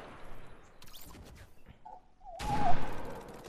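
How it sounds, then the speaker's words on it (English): Gunfire from the video game Fortnite, a few scattered shots early on, then a louder burst of firing near the end over faint game background. "I'm already shooting at someone."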